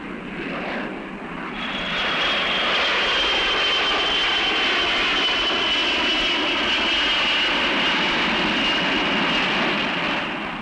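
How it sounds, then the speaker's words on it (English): An airplane's engines roar steadily as it takes off or lands. The sound swells after the first second or two into a loud, sustained, rushing drone with a faint high whine, and no talking. "an average of 5 airplanes are taking off or landing somewhere in these United States"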